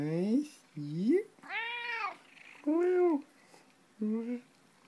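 A cat meows five times close by, each meow short and clear, separated by brief pauses.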